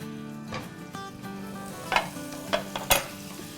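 Vegetables fry in oil and butter in a frying pan, giving a steady sizzle broken by several sharp clicks and scrapes of stirring against the pan, close and moderately loud.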